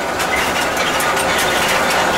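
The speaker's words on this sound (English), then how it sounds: "The fan's just staying on." A Trane gas furnace blower fan runs continuously, pushing air with a steady, even whooshing hum that holds at a constant level throughout with no talking.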